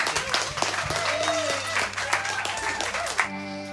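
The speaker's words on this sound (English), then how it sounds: "Could you give yourselves a big round of applause for being such a sound audience?" A live concert audience in a small venue applauding: a steady wash of clapping and crowd noise with voices rising over it, fading into a sustained musical tone at the end.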